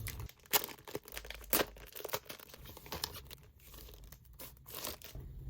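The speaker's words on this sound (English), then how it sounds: "This is such a cool feeling when you open a fresh pack of pages" A fresh pack of plastic photocard binder pages is torn open, giving sharp tearing bursts followed by busy crinkling and crunching of thin plastic sheets, close-up and fairly loud, with no voices.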